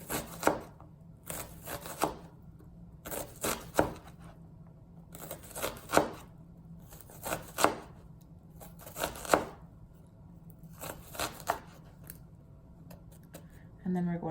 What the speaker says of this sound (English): Once you start slicing backwards, it all comes together really nicely.